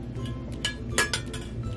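Glass and metal dishes and trays clink and chink together in several sharp, bright hits, close and fairly loud, while thrift-store pieces are handled for a tiered vanity tray.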